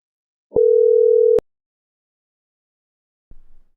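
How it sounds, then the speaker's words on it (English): A single steady voicemail beep from a phone lasts just under a second and ends with a click, followed by silence and then a brief faint rustle. "That was a voicemail, by the way."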